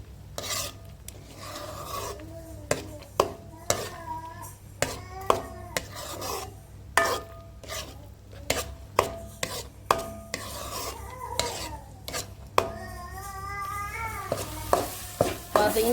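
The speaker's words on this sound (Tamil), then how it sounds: "இப்படி கொஞ்சம் நேரத்துக்கு எடுத்து கிளறிக்குங்க" Spoon scraping and stirring thick papaya halwa in a pan, a repeated rasping rhythm of strokes with a faint sizzle underneath.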